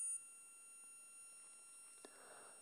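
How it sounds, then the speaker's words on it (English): An Olympus XA compact film camera in battery-check mode gives off a steady, high-pitched electronic whine that holds at a constant level for the whole clip, with no other sound. "Second position gives a high-pitched whine if your battery is okay."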